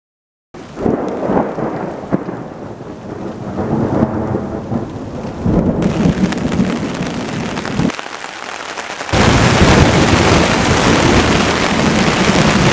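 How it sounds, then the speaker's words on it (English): Heavy thunderstorm over an Australian bush camp at Watagans: loud steady rain with long rolling thunder that builds and surges, then a harsh, intense downpour roar near the end, with no voices. "This is pretty full-on kind of storm, I tell ya."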